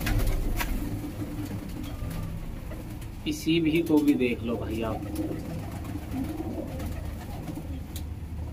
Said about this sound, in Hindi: ये देख लो आप, कोई भी कबूतर देख लो